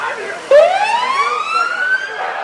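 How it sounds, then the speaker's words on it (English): An ambulance siren wails up sharply and sweeps in a long rising tone as the vehicle pushes through a street protest in San Francisco, loud and close, with crowd noise beneath it. "Just let the ambulance go through! Move for the ambulance!"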